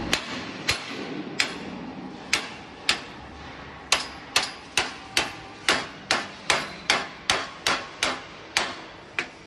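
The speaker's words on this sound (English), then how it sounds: "we use a hammer to reinforce it" Repeated sharp metallic hammer strikes on steel edge protection during installation ring out, starting sparse and then falling into a quick, regular rhythm, close and loud with no talking.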